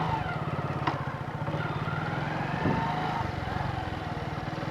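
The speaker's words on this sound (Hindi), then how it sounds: "क्लच एकदम से छोड़ूंगा तब जाके मेरी बाइक निकलेगी" A motorcycle pulls away as the clutch is suddenly released, its engine chugging in a steady rapid putter close by with a small surge partway through.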